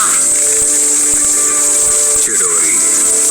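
A Chidori lightning jutsu effect from the Naruto anime, a loud continuous high-pitched crackling, chirping hiss that holds steady throughout with a brief swell near the middle.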